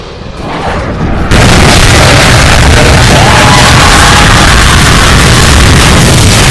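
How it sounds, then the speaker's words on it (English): An airplane exploding in a crash, a sudden massive blast that erupts after a short quieter rumble and then roars on as a dense, very loud, sustained wall of noise. "airplane in France is exploding."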